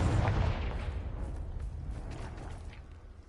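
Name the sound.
Confringo fire spell exploding in video game Hogwarts Legacy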